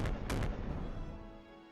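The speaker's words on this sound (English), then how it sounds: "The firework timing machine that Rimu said she set up seems to be working perfectly." Video-game fireworks fired by a timing machine burst with a couple of sharp booms, then a broad crackling rumble that decays over a second or so; no speech.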